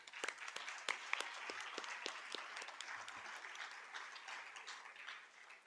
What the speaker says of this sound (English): Can we just get one last massive round of applause for everyone?